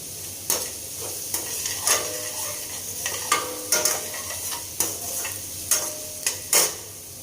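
Mustard seeds fry in hot oil in a pan for poha, giving a steady sizzle. Sharp irregular pops and spoon clinks ring out about every half second.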